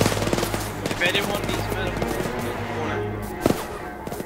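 Automatic gunfire in the BlackLight video game rattles in dense bursts through most of the stretch, with a sharper shot near the end, while voices talk over it.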